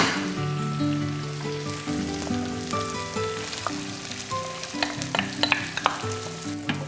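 Tomato puree being stirred into broken-down, cooked Italian sausage in a pan, a moderate sizzle with a spoon scraping and sloshing, a few sharper clicks toward the end.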